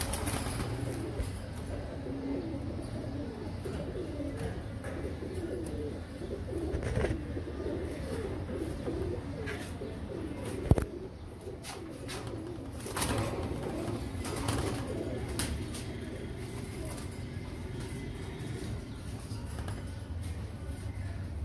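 Royal Teddy pigeons coo in soft, repeated low calls close by, with a continuous murmur of birds and one sharp knock partway through; no one speaks.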